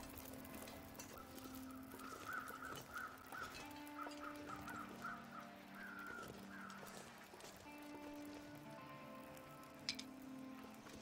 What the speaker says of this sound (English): There go the weather crows.